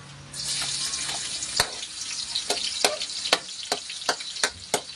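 Garlic sautéing in a pan while cooking sarsyadong dalagang bukid, a Filipino fish dish, gives a steady close sizzle and frying hiss. Several sharp clinks and scrapes of a utensil against the pan cut through it at a regular, spaced rhythm.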